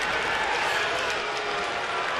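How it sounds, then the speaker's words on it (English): A baseball stadium crowd during a Pirates at Nationals game in May 2009 gives out a broad, sustained roar of booing and murmuring after a four-pitch walk, filling the whole short moment without letup. "And some are booing already."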